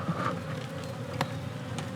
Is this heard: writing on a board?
no